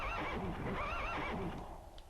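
A horse whinnies in a long, wavering neigh in the video game Legend of Dragoon, loud and close, followed by a second shorter whinny over a rumbling low background.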